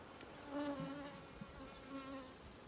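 Honeybees buzz around an open double brood nest hive during an inspection, a close, wavering drone that rises and falls as individual bees pass near.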